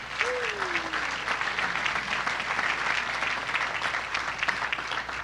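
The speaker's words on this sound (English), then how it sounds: "Give yourselves a big cheer and a hand." A large crowd at an airport new terminal groundbreaking ceremony in Kansas City claps and cheers steadily and loudly throughout, a dense wash of applause with a brief whistle near the start.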